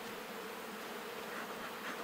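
Honey bees buzz at an opened hive during a smoking inspection, a continuous soft hum with no voices over it.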